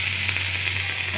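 Chopped tomato hits fried onions in hot oil in a home kitchen, giving a steady, close sizzling hiss with no pauses and no talking.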